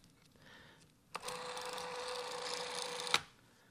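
Clockwork motor of a Canon Scoopic 16mm film camera running after being wound, a steady mechanical whirr that starts abruptly, holds for about two seconds and stops with a click.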